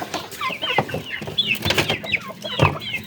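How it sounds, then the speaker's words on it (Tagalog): Pet chickens clucking at morning feeding time, several birds calling close by in overlapping bursts with short squawks and busy scratching around them. "Magpakain tayo ng manok mga palalabs."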